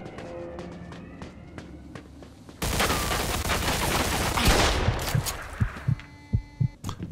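Shotgun fire in the video game Mafia II: a sudden loud burst of gunfire and chaotic noise erupts partway through, then gives way to several sharp, separate booming shots near the end, with no voices.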